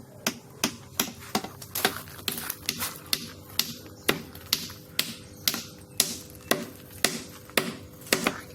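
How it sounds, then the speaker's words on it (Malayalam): Nails hammered into wooden planks while building a small net cage: steady, sharp, evenly spaced blows, about two per second, ringing out close and alone. "ഒരാണിയും കൂടി അടിച്ചു കൊടുക്കാം."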